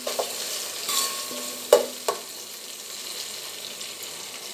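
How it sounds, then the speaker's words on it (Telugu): Egg biryani masala with garlic paste frying in a pan, a soft steady sizzle punctuated by a few distinct scrapes and knocks of a spoon stirring. "ఇలా మొత్తం అంతా కూడా మిక్స్ అయ్యేట్టు ఒకసారి కలపండి."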